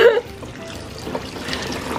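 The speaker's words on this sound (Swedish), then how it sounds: "det kommer jättemycket vatten nu" Water streams steadily from a shower in a bathroom, running hot, as a continuous hiss and trickle at moderate level after a brief opening burst.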